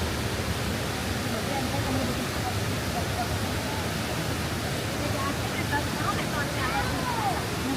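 Water gushes out of rocks at a waterfall along a hiking trail in Pennsylvania, a steady, dense roar filling the whole scene without pause.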